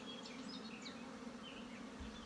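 Honey bees buzzing on a heavy brood frame full of brood, bees and honey pulled from the hive, a soft, steady drone of many bees with faint individual buzzes drifting around it.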